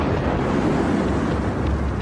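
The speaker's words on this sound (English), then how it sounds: "The deafening air blast breaks through at more than 4 times the speed of sound" A comet impact's supersonic air blast tears through a city: a loud, steady roar of broadband rumbling that holds unbroken without a distinct single bang.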